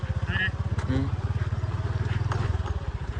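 A scooter ridden along a rough, broken mountain road, its engine putting out a fast, throbbing pulse close by while a person talks over it.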